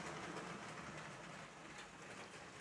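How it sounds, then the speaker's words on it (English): A motorized LEGO Hogwarts Express steam-style toy train runs along its track in a LEGO city layout, giving a soft, steady rolling rattle with light clicking at a fairly constant level and no voices. "The Motorized Hogwarts Express, the first time it's ever been operational here in the LEGO City."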